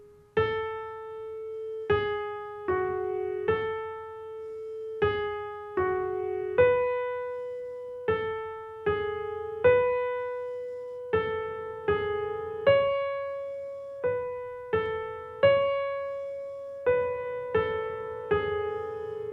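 Solo piano plays the opening of a piece one hand at a time, single sustained notes struck at a slow, even pace, each ringing out and decaying before the next, clear and close with no voices.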